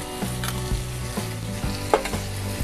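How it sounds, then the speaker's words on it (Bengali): Spices with mustard and poppy seed paste frying in a pan, a continuous sizzle broken by several scraping stirs and a sharp clatter of the spoon against the pan. "এবার মশলাগুলোকে ভালোভাবে কষিয়ে নেব।"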